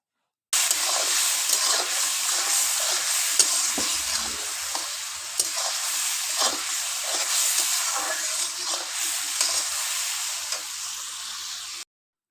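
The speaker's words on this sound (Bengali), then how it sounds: "আর আমি এই যে এদিকে পেঁয়াজ তারপরে টমেটো ভেজে নিচ্ছি।" Onion and tomato fry in a pan with a continuous, hissing sizzle, broken by occasional scraping stir strokes, for about eleven seconds without speech.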